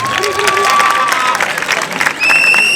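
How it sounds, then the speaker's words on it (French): At a Senegalese university debate quarter-final, the audience gives both teams a loud, dense round of clapping, with cheers, whistles and some shouting mixed in. "veuillez encore applaudir les deux équipes, s'il vous plaît."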